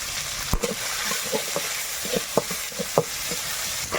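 Panch phoron spices, bay leaf, dried red chilli, ginger and onion fry in oil, a steady soft sizzle broken by sharp scraping clicks of stirring, close and alone with no voices.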